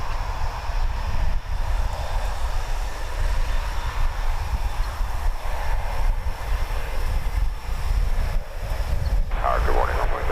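An American Airlines Boeing 737-800 jet arriving at DFW Airport from Querétaro, Mexico, rumbles steadily throughout as a broad, continuous engine roar with low-end weight, moderately loud and without talk.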